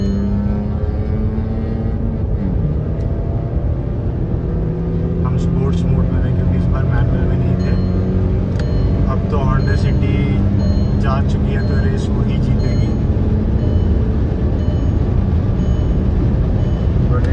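A stage 2 tuned Honda City and a stage 1 Volkswagen Virtus accelerate hard in a race, engine roar loud and continuous from inside the car, with a voice speaking over it.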